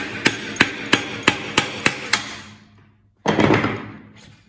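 A hammer striking a bike's rear axle to knock it free, seven sharp evenly spaced metallic blows close up, followed by a pause and a brief scraping rattle.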